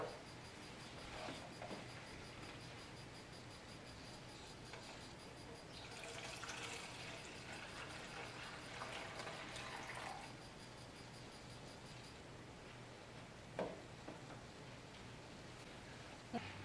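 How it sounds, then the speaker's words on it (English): Urine is poured quietly from a bedpan into a measuring container, a faint splashing trickle in the middle of an otherwise hushed room. "pour the contents of the bedpan into the measuring container without spilling or splashing the contents"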